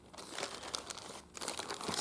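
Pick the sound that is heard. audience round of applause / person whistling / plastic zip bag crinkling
plastic zip bag crinkling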